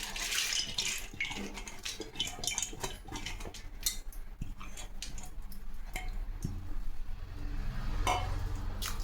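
Water runs and splashes while sambar lentils (toor dal) rattle and a utensil clinks against a metal pot, with irregular clattering throughout as the lentils are washed.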